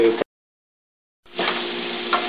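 Onions tossed and frying in a pan, a short sizzling burst, a brief gap of silence, then a steady close crackle of frying with stirring, no voices.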